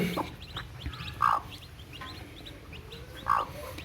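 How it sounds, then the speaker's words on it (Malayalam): Black chicken chicks and their mother hen cluck softly nearby, with a couple of louder calls and faint chirps over a quiet outdoor background. "ഒക്കെ കരിങ്കോഴി കുഞ്ഞുങ്ങളാണ് കേട്ടോ"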